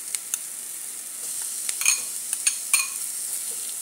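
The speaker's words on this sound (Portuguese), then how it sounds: "Aí vou deixar dar uma fritada, vai adicionar o alho." Garlic frying with softened onion in a pan gives a steady, faint sizzle, with occasional clicks and scrapes of a utensil stirring against the pan.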